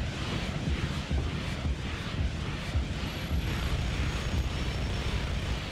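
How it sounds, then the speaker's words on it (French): A helicopter in the video game Just Cause 3 drones with a low, pulsing rotor thump under wind-like rushing, steady and moderately loud across the span. "Là, il y a des vrais hélicoptères assez intéressants."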